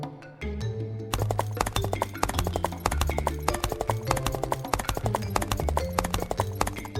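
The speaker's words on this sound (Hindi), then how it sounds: "सब लोग घोड़े पर चले गए" Several horses gallop away, their hooves clip-clopping in a fast, steady rhythm that stays loud and close throughout, backed by a low droning musical score with no talk.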